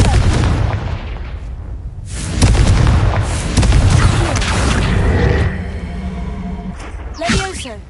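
A Confringo fire spell from Hogwarts Legacy on PS5 bursts with a loud, booming explosion around the two-second mark, followed by sustained rumbling blasts and crackling debris, with a second sharper burst near the end.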